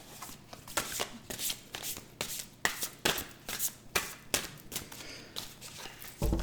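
A deck of cards shuffled and cut by hand during a tarot-style reading, with a run of crisp riffles and slaps in an uneven rhythm, close and fairly quiet, with no talking.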